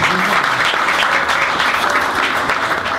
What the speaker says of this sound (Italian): Tra applausi scroscianti e grandi emozioni